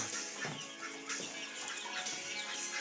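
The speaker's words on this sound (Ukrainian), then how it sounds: "декоративні півни, курочки там є" Ornamental chickens, including cochins and naked-neck hens, clucking nearby, with soft repeated calls and a little rustling, no voices.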